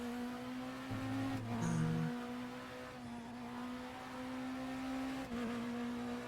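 A race car engine in the RaceRoom sim racing game hums at a steady drone, with gear-shift steps and small rev changes, heard from the cockpit at moderate level with no talking.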